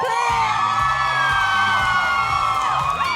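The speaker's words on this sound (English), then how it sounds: "It's not just any crowd, it is the Lime supporters. Make some noise, please." A crowd of Lime supporters at a live esports event in Rotterdam cheers, whoops and shouts continuously, a loud, dense roar of many voices with high-pitched yells rising above it throughout.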